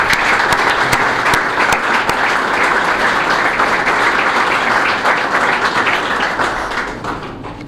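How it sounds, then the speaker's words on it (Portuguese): Sustained applause from a seated audience at a lunch gathering with Machico local councillors, dense and steady clapping held close throughout before tapering slightly at the end. "muito obrigado e um aplauso"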